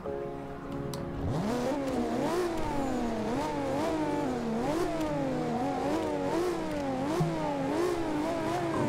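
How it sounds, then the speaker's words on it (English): A 1998 Toyota Supra sports car engine in Forza Horizon 2 revs up and down repeatedly, its throaty exhaust note rising and falling in quick cycles, loud and close, with no talking. "Lovely sounding exhaust note."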